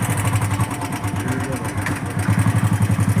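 A motorcycle engine runs steadily close by with a low throbbing pulse that grows more rhythmic toward the end, while a voice speaks over it.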